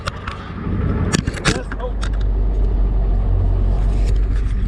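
Cars rolling past on a rural country street, a steady low road rumble building and holding close by, with a few brief clicks and sharp transients and some talk mixed in near the start.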